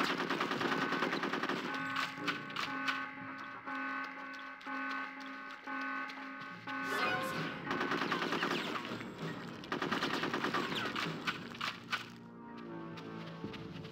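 Gunfire in the video game Conker's Bad Fur Day: rapid repeated shots over a continuous tonal game soundtrack, with dense bursts toward the end.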